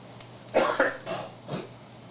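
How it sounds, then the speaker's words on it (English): A person with a lingering cold coughs several times in a short, harsh burst, close and fairly loud, followed by a quieter throat-clearing cough. "Excuse me, I got a cough."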